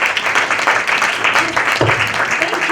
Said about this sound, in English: A very big clap for this very important prize.